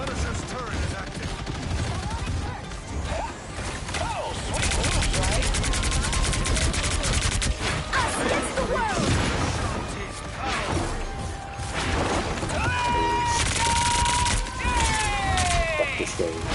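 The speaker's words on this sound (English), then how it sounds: "The Punisher's turret is active." Rapid bursts of turret gunfire from the Punisher in Marvel Rivals, loud and relentless, mixed with crashes, impacts and ability effects in a chaotic team fight, while voices talk over the action.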